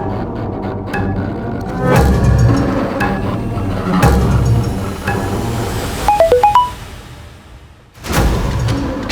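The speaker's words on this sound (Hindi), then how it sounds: "किसका मोबाइल बजा?" A mobile phone rings with a short burst of bright electronic tones between bouts of louder background sound, fairly near and lasting only a moment before a heavy thump follows.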